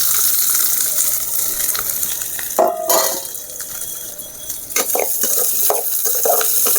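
Small onions fry in hot oil in a pan for egg podimas, giving a steady close sizzle broken by a few louder bursts of stirring and scraping.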